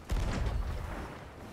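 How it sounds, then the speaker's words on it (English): A ship's cannon fires once in the pirate game Sea of Thieves, a sharp boom followed by a rumbling tail that fades over a second or so. "This cannon's gonna hit my wheel already."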